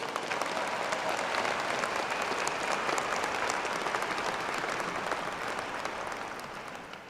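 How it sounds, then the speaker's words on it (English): Broad, sustained applause rolls through a crowd at Howard University's 2023 commencement, a dense, distant-sounding roar of clapping that holds steady and then slowly fades. "So let's give him a round of applause."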